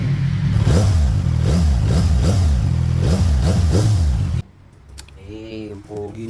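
A CF Moto 675SR-R motorcycle with an IXIL full exhaust revs loudly and repeatedly from close range in a rhythmic pulsing roar. It then cuts off, and a person speaks briefly.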